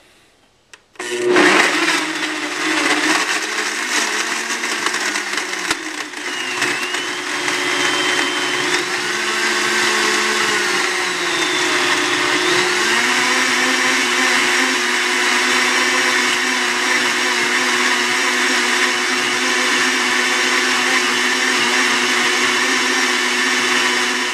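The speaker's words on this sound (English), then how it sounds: "so the blend cycle is complete" A blender whirs through a smoothie of fruit, ice cubes and coconut oil, starting with a loud burst and settling into a steady, roaring motor drone that runs on alone for the whole stretch.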